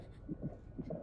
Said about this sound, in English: Hear the heartbeat?